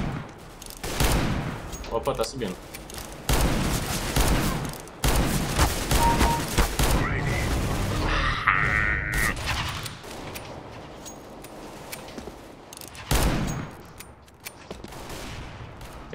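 Repeated shots from a Revolver R8 in CS:GO crack out in loud, uneven bursts, with several clusters of fire spread across the clip and someone talking over and between them.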